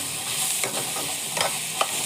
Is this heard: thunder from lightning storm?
no